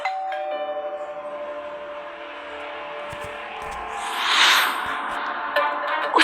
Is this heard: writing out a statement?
no